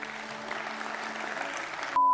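Audience applause at a gathering: a steady, even patter of clapping, moderately loud and uniform, ending abruptly with a brief electronic tone at the very end.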